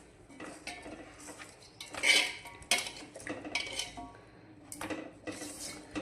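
A metal utensil stirs salt, chilli and oil into food in a pot, with clattering scrapes and clinks in irregular bursts, close and moderately loud, no talking.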